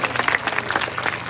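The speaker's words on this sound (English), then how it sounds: "we can give the zookeepers a big round of applause for all of their hard work." Zoo audience at Lincoln Park Zoo applauding the zookeepers after a training session, a steady wash of many hands clapping close by with no pauses and no talking.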